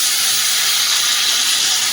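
Water poured into a hot pan of sautéed vegetables, simmering over gas for a thin curry with green banana and green papaya, gives a steady, loud hiss of steam throughout, with no talking.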